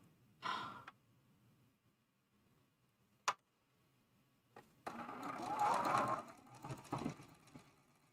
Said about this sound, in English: I'm going to take that off of the sewing machine